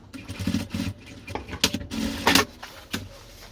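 A sewing machine runs a short seam on a small fabric bottle bag, its motor whirring in quick bursts with brief pauses, close and moderately loud.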